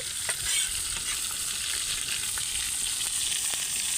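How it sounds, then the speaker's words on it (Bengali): A large fish frying in oil on a wood-fired stove, a continuous close sizzle and crackle with occasional light stirring taps, no voices. "তো প্রথমে মাছটা যেহেতু বড় একটু ভেজেই নিব"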